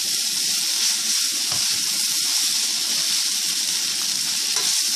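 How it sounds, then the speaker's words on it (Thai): Noodles and vegetables being stir-fried in a small wok, with a dense, even sizzle that holds steady close by and faint scraping of the spatula underneath, no talking. "เราก็จะพยายามเขี่ยให้เส้นกับผักเนี่ยเข้ากันนะคะเพื่อน"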